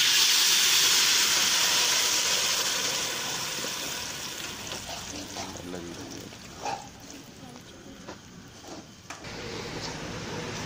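Jackfruit halwa stirred in a hot pan, a steady steamy hiss dominating at first and easing off, with intermittent scraping and clinks of the spoon against the pan.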